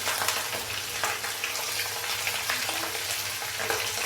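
Ginger garlic paste fries in a pan during an aloo gobhi chicken recipe, giving a steady, close hiss and crackle of hot oil with faint stirring scrapes throughout.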